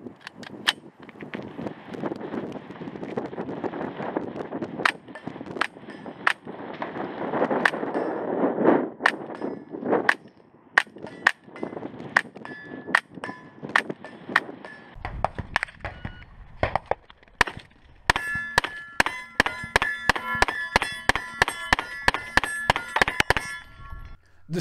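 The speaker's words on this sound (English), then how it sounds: "I'm going to give it a light hit with my flashlight here" A flashlight tapping a steel shooting target on a welded stand, a long series of sharp metallic strikes, each leaving a bright ringing tone, spaced irregularly at first and then coming faster and denser near the end, close and clear.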